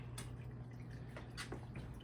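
Liquid pours and drips into a jar of jalapeños being prepared for fermentation, with a few soft splashes and gurgles over a low steady hum.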